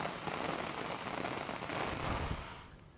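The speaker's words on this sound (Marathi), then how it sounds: "नाशिक जिल्ह्यातल्या मालेगावात पुन्हा एकदा अवकाळी पावसाने जोरदार हजेरी लावली" Unseasonal rain with storm winds lashes Malegaon in Nashik district, a steady, dense roar of downpour on surfaces that stays loud throughout and eases slightly near the end, with no voices.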